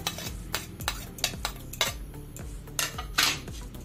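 Makki roti dough ingredients being stirred together in a bowl, heard as a steady, rhythmic series of close scraping and knocking strokes from a spoon or hand against the bowl, with no talking.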